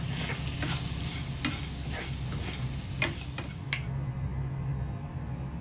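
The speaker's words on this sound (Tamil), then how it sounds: "பிறகு தேங்காய் துருவல் சேர்த்து சன்னலாக வரும் வரை வறுக்கவும்" Grated coconut dry-roasting in a pan for Chettinad chicken curry masala, a soft continuous sizzle with quick rhythmic scraping strokes of a spatula that stop near the end, leaving a faint hiss.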